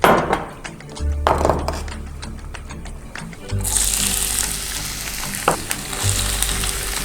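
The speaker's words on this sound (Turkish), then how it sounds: "soğanlarımızı ısınmış zeytinyağımıza ekliyoruz." Onions sizzle and fry in heated olive oil in a pan, a loud, steady crackle close by with bursts as they are stirred and settle, and no talking.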